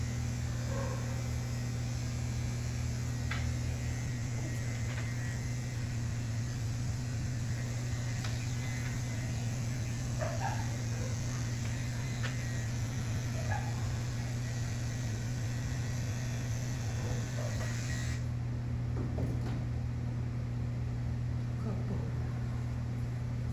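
Electric clippers shaving a dog's paw pads give off a steady low buzzing hum that runs unbroken throughout, fairly faint, with soft scattered background noises.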